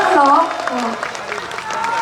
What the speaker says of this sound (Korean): 여러분 따뜻한 마음에 큰 박수 한번 보내주시면 감사하겠습니다